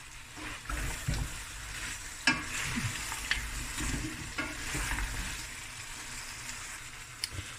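Potatoes are stirred in a pot of Cape Malay lamb curry, with soft scraping, knocks and a low sizzle throughout, fairly quiet and close, no voices.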